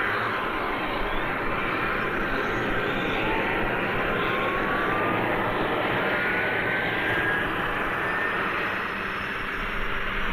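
A McDonnell Douglas Phantom jet taxiing to the runway at an RAF base in the 1970s, a loud steady engine roar with a broad rushing whine that holds constant throughout.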